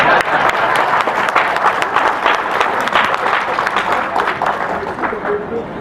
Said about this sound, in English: Clap lah